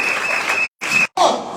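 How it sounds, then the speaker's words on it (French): Church congregation applauding during a Sunday service, a dense, steady clatter of clapping from many hands that twice drops briefly to silence before resuming at full strength. "Est-ce qu'on peut acclamer pour la gloire de Dieu?"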